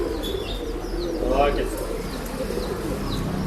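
A male breeding pigeon in good condition at a pet shop sale coos in low rolling calls with a few chirps nearby, while someone talks over it.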